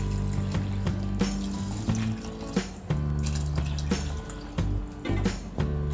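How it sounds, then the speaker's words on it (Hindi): Water runs and splashes continuously into a cooking pot for rice pulao, a steady gushing pour with small metallic clinks throughout. "अब हम इसमें पानी डालेंगे।"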